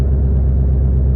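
The engine of a 2020 Ford Mustang GT500 on a dyno, making a steady, loud, deep rumbling drone across the brief stretch with no change in pitch or volume, and no talking.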